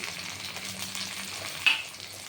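Tomatoes frying in a pan with grated ginger for a Bengali bottle gourd and prawn-head dish, giving a steady broadband sizzle throughout, with a brief sharp spatter burst near the end and no talking.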